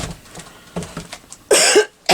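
Two sharp coughs break in near the end, close and loud, after a few quieter shuffling sounds.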